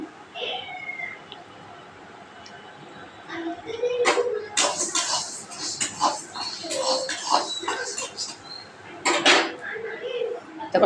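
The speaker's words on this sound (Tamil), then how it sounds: "இப்போ உளுத்தம்பருப்பு போட்டிருக்கேன் இதை லைட்டாக வறுத்துக்கலாம்" Urad dal being lightly dry-roasted in a pan, heard as scattered scraping and clinking of a utensil against the pan, with bursts of rattling stirring that grow busier midway; moderate level, no speech.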